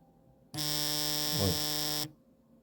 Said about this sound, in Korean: 8시 알람까지 울렸으니